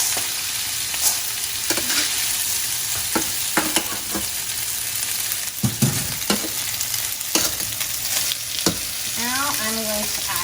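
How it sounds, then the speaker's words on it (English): Pasta and pancetta stirred in a clean frying pan for carbonara, with a steady sizzle under repeated scraping and clattering utensil strokes, loud and close, no talking. "we're gonna add in our pancetta again in a clean pan"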